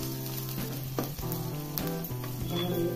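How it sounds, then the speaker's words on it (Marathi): Onion frying in hot oil for a Kolhapuri mixed vegetable bhaji, a steady close sizzle with stirring scrapes throughout, no talk. "तेल गरम झाले की थोडासा कांदा लाल होईपर्यंत परतायचा"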